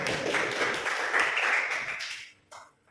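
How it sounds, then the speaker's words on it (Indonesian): A class of students claps together during a teaching session, a dense burst of many hands that holds steady and then fades out, followed by a brief final clap. "Tepuk tangannya."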